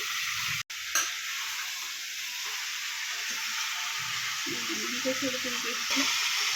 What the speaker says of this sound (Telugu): చికెన్ వేసుకొని ఇట్లా మొత్తం అంతా కలిసేటట్టు కలుపుకోవాలి